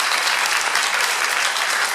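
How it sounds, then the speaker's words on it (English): Panel audience at a convention hall applauding steadily, a dense even wash of many hands clapping throughout, with no talk on top. "feels weird to wait for the applause to like get me on the next thing"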